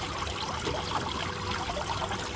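Water recirculating and trickling in a bucket, a steady close splashing stream with no pauses.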